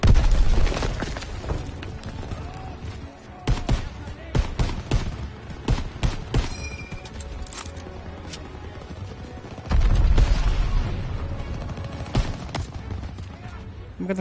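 Gunfire and explosions in the World War II shooter game Call of Duty: WW2, with irregular loud bursts and booms over a constant battle din, while a player talks over it.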